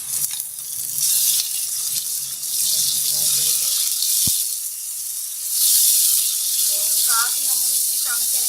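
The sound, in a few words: chicken mince added to browned garlic, ginger and onion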